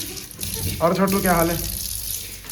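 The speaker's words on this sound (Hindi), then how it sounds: "ठंडा ठंडा पानी में बर्तन धुलते हुए मजा आ रहा है" Tap water runs steadily over dishes being washed in a home kitchen, a close, continuous splashing wash, while a voice speaks briefly over it.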